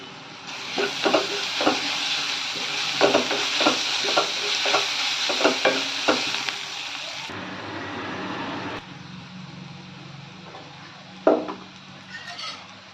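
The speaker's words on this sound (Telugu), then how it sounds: "అల్లం వెల్లుల్లి పేస్ట్ పచ్చివాసన కూడా బాగా వేగాక" Ginger garlic paste frying in a pan for a prawn and okra curry, a steady close sizzle broken by repeated scraping stirs, then quieter after a cut with a single louder clatter.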